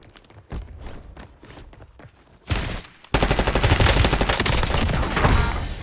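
Gunfire in a multiplayer shooter game: scattered single shots and footsteps at first, then a sharp burst followed by sustained rapid automatic fire, loud and continuous.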